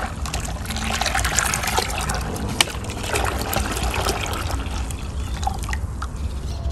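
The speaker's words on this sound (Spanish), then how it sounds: "Le voy a agregar el resto de agua para completar los 6 litros." Water pours steadily into a container to bring a batch up to six litres, giving a continuous close, splashing gush.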